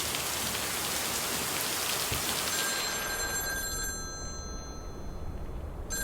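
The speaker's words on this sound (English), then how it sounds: "Rainy day." Steady rain falls in a video game scene, a dense even hiss across the whole stretch, with a faint ringing tone entering partway through and the downpour continuing alone.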